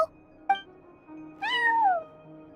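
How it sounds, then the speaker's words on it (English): A cat in the Genshin Impact video game meows at a front desk, two short faint chirps followed by a longer clear meow that slides downward, with quiet ambience underneath. "No one except for a cat watching over the front desk."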